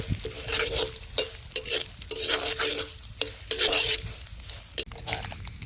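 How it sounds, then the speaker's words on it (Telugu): Mustard seeds, cumin, two or three dried red chilies and curry leaves are stirred in a hot pan, tempering for Rayalaseema-style uggani. Close, repeated scraping strokes of a spoon against metal sit over a light continuous sizzle. "ఇవన్నీ వేసి బాగా కలుపుకుందాం."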